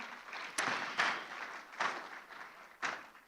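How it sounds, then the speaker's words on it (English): An audience at a program showcase exhibition applauds, faint and distant. The clapping swells in several short bursts over a steady hiss. "Let's have a round of applause for Mr."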